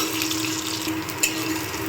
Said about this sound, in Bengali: এবার মুচ্ছাগুলো ভেজে নিচ্ছি